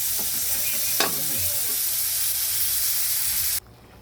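Steady sizzling and crackling of dried salted fish (daing) half-frying in a pan, broadband and continuous, with a few stirring scrapes early on before it cuts off abruptly.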